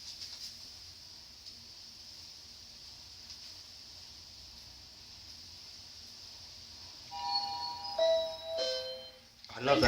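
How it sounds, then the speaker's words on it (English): Mitsubishi lift at a shopping centre sounds its arrival chime near the end, a short run of clear bell-like tones after a long stretch of steady hum and quiet talk. "I love that chime"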